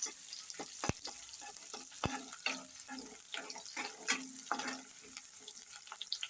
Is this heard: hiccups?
no